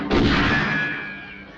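A single loud gunshot in a sci-fi shipyard scene, a sharp close blast followed by a long decaying boom with a faint ringing tail, alone without talk.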